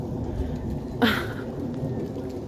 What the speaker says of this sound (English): Is it raining now? Are we getting heavy drops?